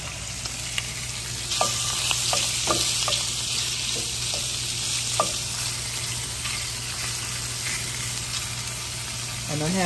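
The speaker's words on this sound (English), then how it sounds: "Okay, let's put the sausage in." Sausage frying on medium heat in a cast iron skillet, giving a loud, steady, close sizzle with a few scattered pops and light utensil clicks.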